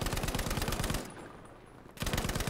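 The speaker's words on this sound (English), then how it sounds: "We try to shoot enemies all across the map, as the Lewis gun is able to do so with its incredibly high ammo count." A Lewis gun machine gun fires in Battlefield V, fast rhythmic bursts of close, loud shots that stop for about a second of quieter ambience and then resume at the same rapid pace.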